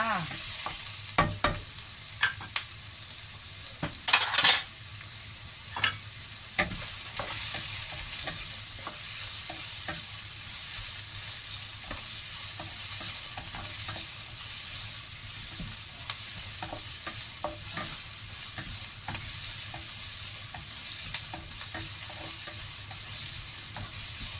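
Onion and garlic sizzle steadily in a pan as the base of a black mushroom sauce for spaghetti, with intermittent scraping stirs and clacks of a utensil, close and with no talk.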